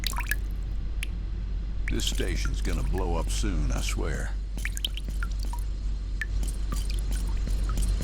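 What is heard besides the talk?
water dripping and pouring through pipes in SpaceBourne 2 video game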